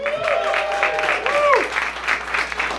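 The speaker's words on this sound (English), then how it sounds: "Give a round of applause for them." Crowd claps for the hosts at a small open mic night in Waco, a short burst of applause with whoops and a shout mixed in, fairly close and lively.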